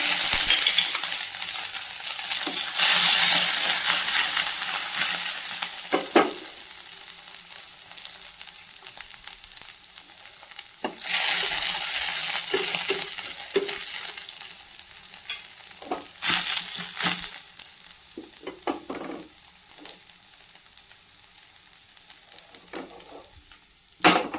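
Mushroom pepper fry sizzles steadily in a hot pan, with bursts of stirring and scraping, clicks of a spoon against the pan, and quieter gaps between the stirs; no talking.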